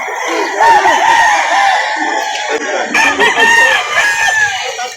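Chickens and roosters at a poultry market in Lipa City, Batangas crow and cluck loudly and close, several birds overlapping, with a voice speaking softly beneath.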